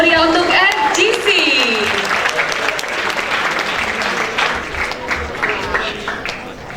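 Energetic applause from a university lecture hall audience following a street community music performance, loud and continuous with scattered cheers and voices early on, gradually easing toward the end.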